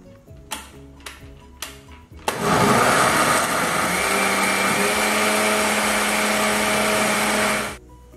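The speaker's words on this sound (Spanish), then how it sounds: "ya está todo aquí puesto en la licuadora y se va a poner de una vez a" Kitchen blender grinding roasted chiltepin chili salsa ingredients: a few light taps and clicks, then the motor kicks on loud and close, holding a steady whirring roar for about five seconds before cutting off.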